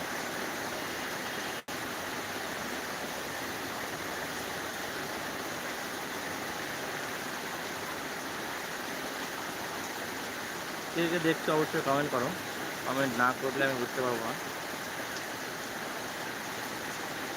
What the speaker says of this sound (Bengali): আজকে প্রচুর পরিমাণে বৃষ্টি হচ্ছে সকাল থেকে